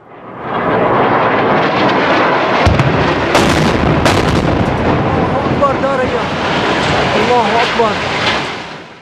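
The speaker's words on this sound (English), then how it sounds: "In this recording, we can hear two 500-pound bombs being dropped on Syrian civilian buildings by Russian jets supporting the Assad regime." Two 500-pound bombs dropped by Russian jets blast onto buildings in Syria with loud, booming explosions. Jet engine roar and rumbling debris continue around the blasts, with voices mixed in.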